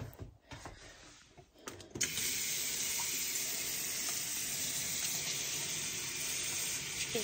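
A paint brush is rinsed under a running tap, with a steady loud rush of water that starts abruptly after a few soft handling noises and carries on unbroken.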